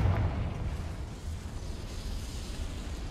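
A Confringo spell explosion in a Harry Potter video game: a muffled low boom at the start that trails off into a rumbling, fading roar, moderately quiet with no speech.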